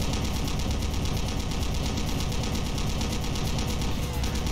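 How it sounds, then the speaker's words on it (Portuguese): Rapid, continuous automatic gunfire from the Doom mod Stronghold fills the whole stretch as a dense, loud, unbroken rattle of shots with no talking over it. "Tem uns caras atirando ali com um tiro diferente."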